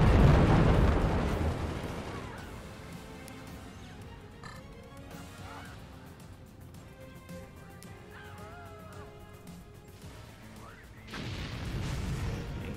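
Missiles fire and explode in the artillery strategy game Forts. A deep rumbling blast opens the sequence and fades into a sustained low roar with faint whistles, then another heavy explosion swells at the end, loud and without speech.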